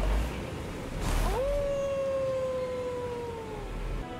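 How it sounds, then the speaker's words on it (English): A long, rising then sustained mournful howl echoes in Elden Ring's underground Siofra River area; a single eerie wail holding steady for about two seconds before fading, over a low ambient rumble. "I hear the dog"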